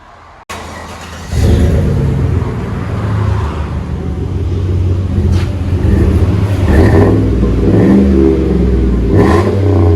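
A 2014 GMC Sierra 5.3L V8 with Flowmaster 40 Series dual exhaust idles, then roars as it revs up and holds a deep, loud, rumbling note with repeated throttle blips, close by.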